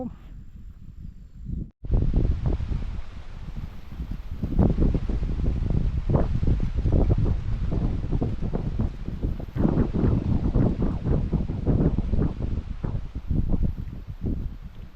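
Strong wind blowing outdoors during a fishing trip, roaring over the microphone in loud gusts with rustling trees, after a brief quieter moment at the start.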